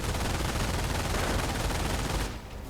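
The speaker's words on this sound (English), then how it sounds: "He has the bike firing away at the rifleman." Dense, continuous gunfire from a bike-mounted gun shooting at a rifleman in a 1v1 video game match, loud and unbroken for over two seconds before dropping off sharply at the end.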